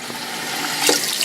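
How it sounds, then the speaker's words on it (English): Kitchen tap water runs into a sink to soak dishes after air fryer cooking, a continuous close splashing stream that swells slightly toward the end, with no talking. "I'm going to put some water in here"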